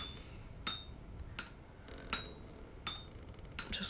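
Metal rings under hammer blows in a video game: five or six evenly spaced sharp strikes with a bright, clinking ring, faint and alone.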